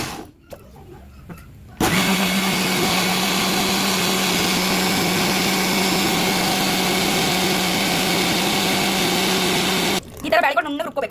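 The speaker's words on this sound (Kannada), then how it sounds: "ನುಣ್ಣಗೆ ರುಬ್ಕೋಬೇಕು ಮಿಕ್ಸಿ." A mixer grinder runs loud and steady, grinding soaked rice and lentils into dosa batter, a continuous motor whir that starts abruptly and cuts off after about eight seconds, with brief talk before and after.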